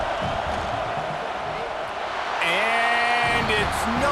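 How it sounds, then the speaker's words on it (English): Steady roar of a college football stadium crowd at a Tennessee Volunteers versus Vanderbilt game as the kicker lines up a field goal, continuous and loud, swelling near the end with sharp whistles and yells rising above the din. "This crowd trying to do its part to get inside the kicker's head."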